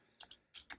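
Typing on a computer keyboard during a switch interface configuration, a few quiet, close key taps in two short bursts.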